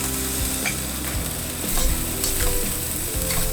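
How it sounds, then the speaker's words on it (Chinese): Beef fried rice with greens is stir-fried in a wok, a steady loud sizzle broken by scraping and tossing strokes of the spatula. "再翻炒10秒钟就可以出锅了"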